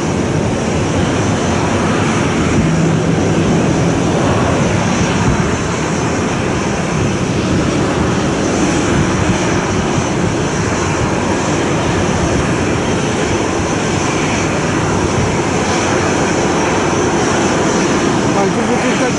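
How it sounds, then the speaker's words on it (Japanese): Airplanes taking off and landing at Centrair (Chubu Centrair) airport, heard from an observation deck as a steady, loud broadband engine roar throughout, with people talking in the background. "いや、本当にすごいな、ひっきりなしてない飛行機が。"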